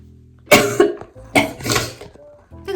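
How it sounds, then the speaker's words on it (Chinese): Severe coughing from a person with Covid-19: a quiet start, then two loud harsh bursts of several coughs, each ending in strained wheezy breathing, followed by another cough rising at the end. No speech. "然后就会一直咳嗽，超可怕的"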